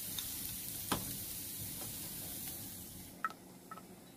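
Oiled eggplant slices sit on a grill and give off a steady, soft sizzle with faint crackles and a few small ticks, close and alone.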